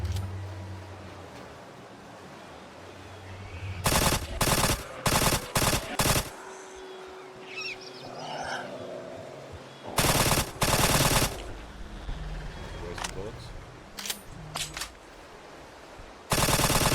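Machine gun fire in the PS5 shooter Acre Crisis, several loud sharp bursts of rapid shots separated by quieter gaps with faint game ambience and a few single pops.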